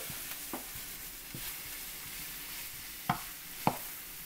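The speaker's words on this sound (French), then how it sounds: "je vais remuer ceci pendant environ 5 minutes" Sautéed chicken gizzards with spices stirred in a pan, a soft constant sizzle broken by a few sharp scraping clicks of the spoon, quiet and close with no voices.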